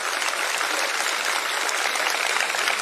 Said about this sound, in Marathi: आपण एकदा पवार साहेबांचं टाळ्या वाजवून या ठिकाणी स्वागत